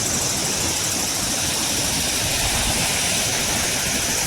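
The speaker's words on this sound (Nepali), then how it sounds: "मान्छेहरू बाइकहरू कुदिरहेछ बाटोमा माथि" Motorbikes ride along a road up above, heard as a steady, continuous engine drone mixed with broad outdoor hiss, with no talk over it.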